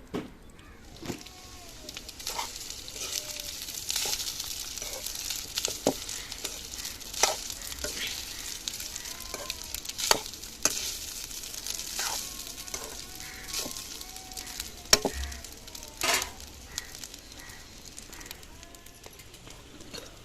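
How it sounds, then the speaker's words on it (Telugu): Cooked rice fries in a pan with cumin seeds, curry leaves, green chilies and dried red chilies for jeera rice, giving a steady low sizzle broken by frequent scraping and clinking stirs. "జీలకర్ర కరివేపాకు పచ్చిమిర్చి ఎండుమిరపలు బాగా వేయండి ఇప్పుడు రైస్ వేసేసుకుంటున్నానండి"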